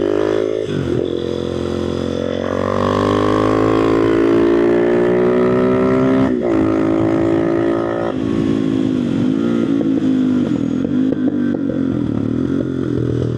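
A DRZ400SM supermoto motorcycle being ridden, its single-cylinder engine loud and close as it revs up and down through the gears with shifting pitch.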